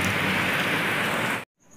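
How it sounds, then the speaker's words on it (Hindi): Rainwater pours and drips steadily inside a storm-damaged hotel in Dhanbad, a loud, dense wash of falling water that cuts off abruptly near the end, leaving near silence. "पूरा पानी टपक रहा बस देख सकते हो"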